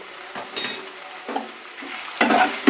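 Spicy chilli chicken is sautéed in a pan, with a low sizzle broken by several scraping stirs of a spoon against the metal, close and moderately loud.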